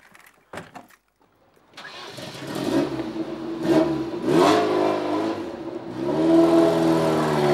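A Lotus sports car engine cranks with a short starter whine, catches and settles into a rumbling idle, then rises and falls through several throttle blips, heard close and loud.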